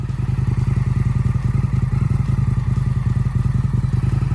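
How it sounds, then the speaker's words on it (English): Loud, steady throb of a 2019 Indian FTR 1200S street tracker's V-twin engine, with a rapid even pulsing thrum held at a constant pace and no voices. "Indian motorcycle, the FTR 1200S"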